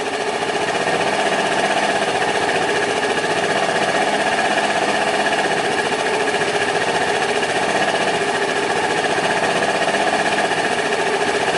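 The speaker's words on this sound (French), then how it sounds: "Jusqu'à ce que le ralenti prenne le maximum de tours." A small engine idles steadily while its carburetor idle screw is adjusted, giving a continuous, fairly loud mechanical drone with a rattling buzz that holds even throughout, with no voices.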